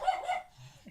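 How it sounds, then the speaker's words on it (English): A small dog yaps a few sharp, close barks in quick succession, followed by a brief softer whine at the end. "there goes my attack dog"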